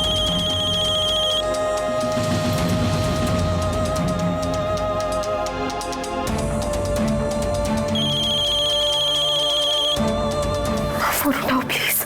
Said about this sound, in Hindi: फोन उठाओ प्लीज।